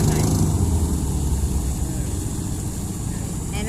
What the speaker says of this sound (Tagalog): Papasok na yung mga bangka na naglaot.